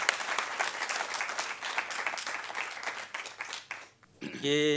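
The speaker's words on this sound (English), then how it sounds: "could you please clap hands for him?" An audience at a catchment-based indaba claps to welcome a speaker, a dense, steady round of applause that tapers off near the end before a short tonal sound cuts in.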